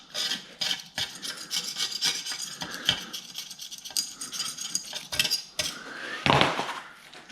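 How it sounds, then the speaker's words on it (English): A scalpel cuts around the glass of a Lewmar portlight on a Hallberg Rassy 34 boat, heard as close, uneven scraping and rasping strokes with sharp scratchy bursts, one louder grinding scrape near the end. "it's much harder to get the scalpel in there"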